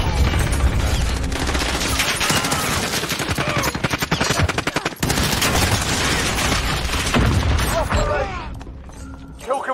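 Heavy automatic gunfire rattles almost without pause, with sharp single sniper cracks mixed in, loud and close before tapering off near the end; voices can be heard under the shooting.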